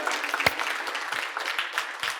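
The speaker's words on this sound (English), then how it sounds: "Give yourselves a round of applause." Audience members at a summit applaud themselves, a fairly faint, roomy wash of clapping with a few sharper individual claps standing out, continuous throughout.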